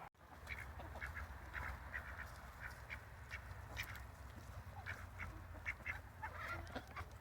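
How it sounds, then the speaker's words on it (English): Backyard ducks quacking among hens and a rooster, repeated scattered quacks at moderate distance over a low outdoor rumble, fairly faint and without talk. "I have 9 hens, 1 rooster, and 6 ducks."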